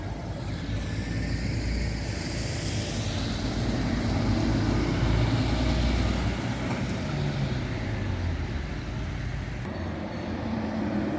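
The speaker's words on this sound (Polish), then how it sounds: "Kolejny, skania z kontenerem." A Scania truck carrying a container rumbles past on the DK62 bypass roundabout at Węgrów, with a steady low engine drone and road noise, the pitch shifting slightly as it moves by.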